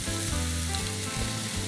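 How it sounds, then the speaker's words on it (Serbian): A chopped veggie burger mixture hits a preheated pan with a spoonful of oil, sending up a loud, continuous sizzle that fills the short moment alongside background music. "Samo ću kratko da propržim"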